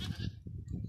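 A goat bleats in short rough bursts, close and fairly loud, with no talking over it.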